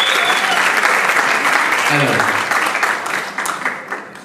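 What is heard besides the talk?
applause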